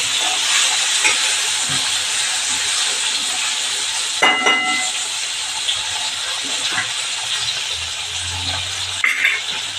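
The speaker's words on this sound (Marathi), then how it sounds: "शेंगा आपल्या चांगल्या परतून घ्यायच्या" Green beans sautéing in a pan with turmeric and asafoetida send up a loud, continuous steamy hiss, with a few brief clanks of a utensil against the pan; no one speaks.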